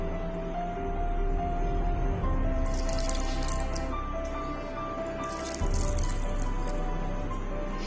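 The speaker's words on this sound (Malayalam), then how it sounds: "കുറച്ചുകൂടെ വെള്ളം ഒഴിച്ചു കൊടുക്കാം" Water poured into maida flour to make batter for potato and corn cheese balls, a steady close trickle and splash that runs throughout, with two louder bursts of pouring midway.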